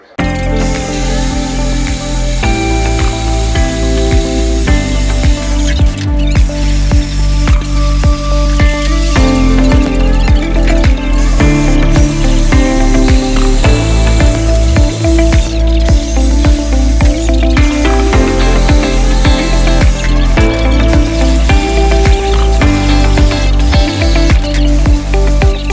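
Drilling holes in fuel tank lids for aft floor tanks in a home aircraft build: a loud, steady mechanical whine with buzzing, grinding texture running continuously, punctuated by brief bumps and shifts as the bit works through.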